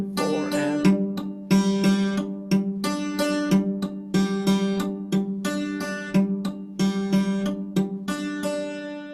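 An instrument played with its dampers lowered and raised on alternating beats, a steady pattern of clear sustained chords that are cut short and then ring again, close and fairly loud, with no voices.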